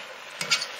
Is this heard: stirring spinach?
yes